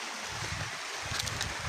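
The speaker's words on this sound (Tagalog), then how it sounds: "Kaya tayo maglalagay ng swimming pool kasi yung tubig dito ay flowing." A flowing stream of water at a house where a swimming pool is being built, a steady, soft rushing close by with no talk.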